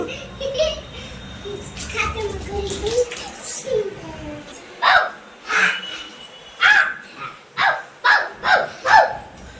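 Two dogs bark in a quick series of sharp barks near the end, following a stretch of background chatter and household noise.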